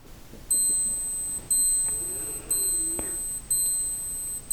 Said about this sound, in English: And there's the alarm chiming.